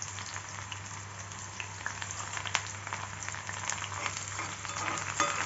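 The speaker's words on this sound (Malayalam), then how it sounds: "കടുക് പൊട്ടിക്കഴിഞ്ഞിട്ട് നമുക്ക് ഈ ചെറിയ ഉള്ളി ഇടാം" Small onions frying in hot oil after mustard seeds have popped, for a Kerala fish curry, heard as a soft continuous sizzle with occasional crackles and pops over a low hum.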